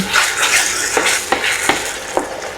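Chicken caldereta with oyster sauce being stirred in a pan, a soft steady sizzle broken by several sharp utensil scrapes at irregular intervals, close and without talk.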